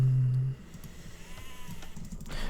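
A sheep bleats in Age of Empires 2: Definitive Edition, a short, loud cry at the start that gives way to quiet game noise and soft clicks.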